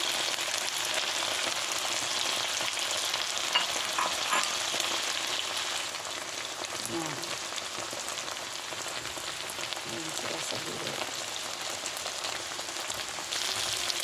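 Egg frying in a pan for fried rice, a steady crackling sizzle throughout, softening slightly halfway with faint stirring scrapes, no talking.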